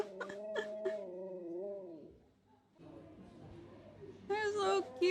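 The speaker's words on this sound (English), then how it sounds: "Hey, the husky's being good. Just wants to sing the song of their people." A husky howls in long wavering tones for about two seconds, then pauses and resumes with a louder, higher yowl at the end, with a person talking at times.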